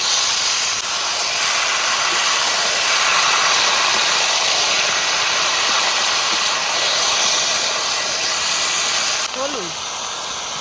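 Taro leaves sizzle in hot oil in a pan with chickpeas, a loud, steady frying hiss that holds level throughout, with a brief faint clink near the end.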